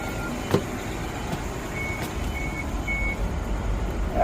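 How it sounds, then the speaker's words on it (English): Three short, evenly spaced electronic warning beeps from a Prevost H3-45 bus sound over a steady low engine rumble, moderately close and not very loud. "you still hear that beeping from the cycle"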